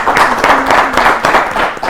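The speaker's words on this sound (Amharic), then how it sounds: "ቢ አጨብጭቡላችሁ በደንብ።" Students in a classroom clap together for a correct answer, a dense, continuous patter of hand claps filling the short moment at steady loudness.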